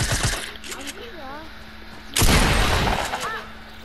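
Shotgun blasts in the video game Fortnite, a sharp broadband shot early and a louder heavy blast midway that lingers, with game sound effects and chirps around them.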